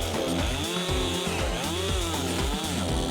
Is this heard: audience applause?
no